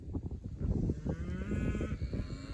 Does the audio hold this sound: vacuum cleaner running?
no